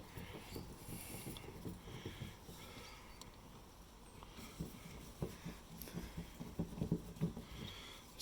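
Rain falling outdoors in the UK on a 2005 Hummer H2 during repair work, a faint steady patter with scattered soft drops and light knocks throughout.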